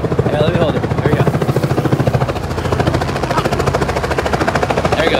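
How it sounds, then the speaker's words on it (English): A helicopter flies overhead near a parking lot with a loud, steady rhythmic rotor thump, while people talk over it. "Helicopters going in the background."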